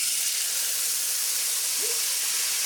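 Peppers, mushrooms and green onions, marinated beforehand, sizzle in olive oil in an electric wok, giving a steady, fairly loud hiss that runs without pause, with no talking.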